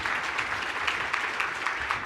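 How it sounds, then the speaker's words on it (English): An audience at the 2018 EBA Mid Year Energy Forum gives steady, moderately loud applause in a conference hall to welcome a panel speaker. "Round of applause for Nora"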